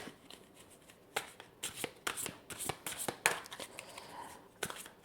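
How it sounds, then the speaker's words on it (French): Oracle cards shuffled by hand close up, a series of quick riffling, flicking bursts with brief pauses between them, alone in a quiet room. "je vais prendre maintenant l'oracle de l'âme, enfin l'âme des arbres"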